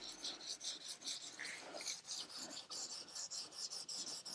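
Sandpaper rasps on the painted clamshell of an FXR motorcycle in a quick, regular back-and-forth rhythm of about two strokes per second, fairly faint and close, with no talk.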